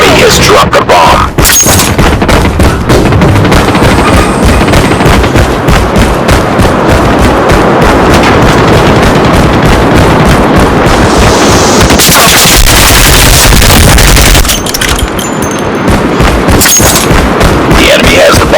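Rapid gunfire from Call of Duty Mobile, loud and dense bursts of automatic shots and booms running almost the whole time, with brief game voice announcements mixed in.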